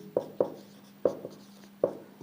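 Chalk tapping and stroking on a board in a physics class, four or five distinct sharp knocks spaced unevenly with faint scratches between, close and clear over a low hum.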